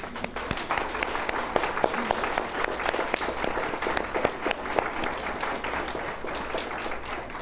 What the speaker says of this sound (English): So that in itself just deserves a massive round of applause.